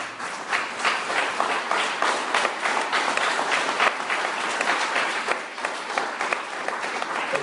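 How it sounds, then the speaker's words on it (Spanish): A church congregation breaks into sustained applause during a sermon, many hands clapping in a dense, even wash for over seven seconds, fairly loud and without talk. "Quiero dar un aplauso a Cristo."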